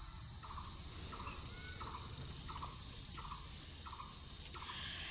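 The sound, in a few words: crickets chirping in a rural village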